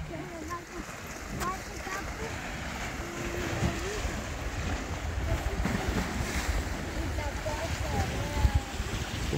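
Sea waves wash steadily onto a beach at Korakochori in the Peloponnese, a continuous broad rush mixed with wind buffeting the microphone, while voices are faintly audible in the background.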